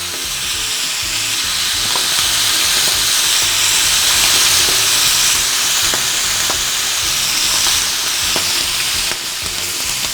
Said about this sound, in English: So I'm going to put in our prawns. And isn't that sizzle just the best?